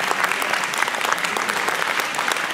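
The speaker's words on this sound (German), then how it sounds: "Ein Applaus für Gül." A live podcast audience claps after a volunteer's catch, brisk continuous applause from a small crowd filling the whole stretch.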